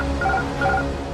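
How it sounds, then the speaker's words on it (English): The autopilot disconnect alarm in the Air France Flight 447 cockpit sounds two short tonal chime bursts in quick succession over a constant low cabin rumble. "Then, an alarm is triggered."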